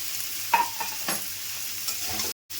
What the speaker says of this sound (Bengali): সবজিগুলো আমার ভাজা ভাজা হয়ে এসছে